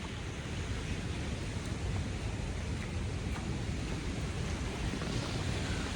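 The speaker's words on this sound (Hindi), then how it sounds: "ये जो झरने हैं इनकी आवाज़ सुन लो" Small waterfalls running along a mountain trek, a steady broadband rush of flowing water that stays even throughout, with no talking.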